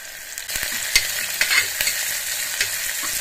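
Onion pieces fry with salt in a pan, giving a bright steady sizzle close by, broken by several sharp stirring clacks and scrapes.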